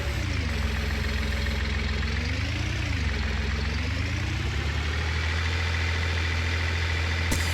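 Farming Simulator 19 game engine drone while maize silage is loaded into a TMR feed mixer: a steady, loud, continuous low mechanical hum with a slight pitch wobble and no talking.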